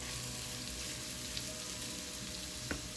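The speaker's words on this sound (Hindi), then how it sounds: "सो अब हम इसमें अपने बॉइल्ड पोटैटोज़ डाल देते हैं" Boiled potatoes going into a pan of sizzling masala with peas: a steady, faint frying hiss continues throughout, with a couple of soft taps and no voices.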